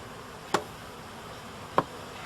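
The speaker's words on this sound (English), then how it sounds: "Bees which had found refuge in the space of the deep floor are also dumped into the funnel to join" Honeybees dumped through a funnel into a shook swarm box give a steady, low buzzing drone, broken by two sharp knocks about a second apart.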